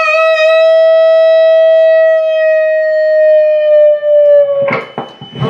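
An electric guitar note bent up on the second string, held with long smooth sustain and rich overtones, then cut off by a short burst of rough, scratchy playing.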